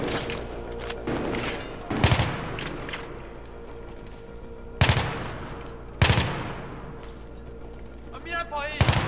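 Heavy gunfire in Battlefield 3: several loud booming shots and thuds punctuate continuous combat noise, with people talking over the action.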